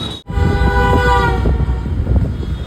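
A train crosses a bridge in Varanasi nearby, loud and steady, with a sustained horn blast at the start and rhythmic clatter of wheels beneath.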